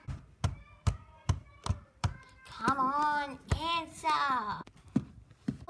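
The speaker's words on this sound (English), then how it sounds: "there's a knock at the door!" Knocking on a door, heard as about six sharp, evenly spaced raps, followed by a voice speaking close by.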